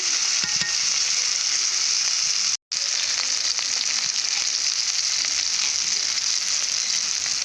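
Bitter gourd pieces fry in plain oil, giving a loud, steady, close sizzle that runs almost unbroken, with a brief dropout and no talk.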